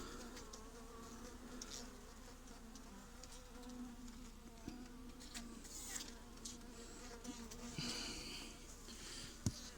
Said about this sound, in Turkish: Buradan doğmaya çalışan arılarımız var.